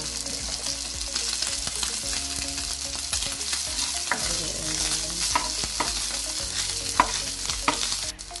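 Beef strips frying in hot oil for beef in oyster sauce, a loud continuous sizzle with scraping stir strokes from a spatula in the pan, no talking.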